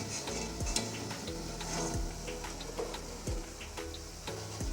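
Chicken pakora frying slowly in hot oil over a low flame, a continuous close sizzle with repeated metallic clinks and scrapes of a utensil stirring and lifting the pieces.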